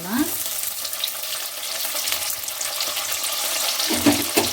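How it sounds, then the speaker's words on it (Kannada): Tomatoes and onions fry in hot oil for vegetable pulav, making a loud, close, continuous sizzle with a few heavier bursts as the pan is stirred, and no voices. "ಟೊಮೆಟೊ ಹಾಕಿದ್ಮೇಲೆ ಸ್ವಲ್ಪ ಚೆನ್ನಾಗಿ ಎಣ್ಣೆಯಲ್ಲಿ ಫ್ರೈ ಆಗಬೇಕು."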